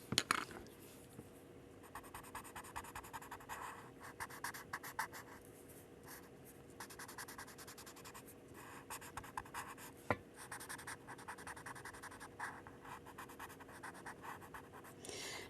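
A pen shading a Zentangle pattern on paper, close-up scratchy strokes in quick irregular bursts with short pauses, quiet and steady, no talking.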